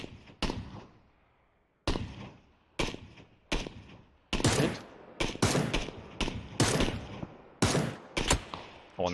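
Gunfire in PUBG: a string of sharp, loud shots in separate bursts and single cracks, some in quick clusters, each with a short ringing tail.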